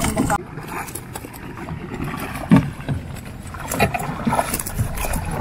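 A small boat loaded with harvested tilapia moving through water at a fish farm, with splashing and sloshing, wind buffeting the microphone, and people talking nearby.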